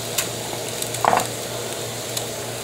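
An egg fries over easy in a hot pan with a steady, close sizzle, broken midway by a brief scrape as it is turned over.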